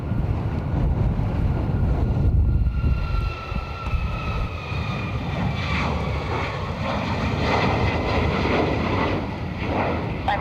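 An Airbus A340 jet taking off at Dublin Airport, a broad, distant rumbling roar with a faint whine above it, steady for the whole clip, with some wind buffeting the microphone outdoors.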